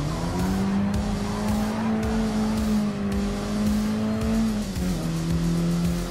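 A Mini Cooper S race car in Gran Turismo Sport drives hard while overtaking, its engine holding a loud, steady drone with tire noise and a slight drop in pitch near the end.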